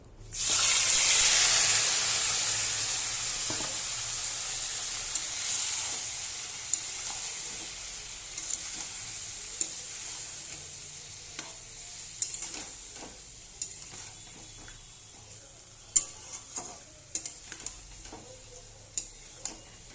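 Ingredients hit hot oil in a kadai with a loud burst of sizzling that gradually settles into a softer, steady fry, punctuated by clicks and scrapes of stirring.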